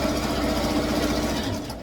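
A sewing machine runs steadily, stitching ribbon for a Barbie doll's tutu, a continuous close mechanical whir for about two seconds that eases slightly at the end.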